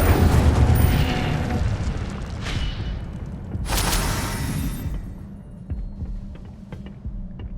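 Incendio fire spell blast in Hogwarts Legacy, a loud rumbling burst with a roaring whoosh that swells again midway before fading into a low throb.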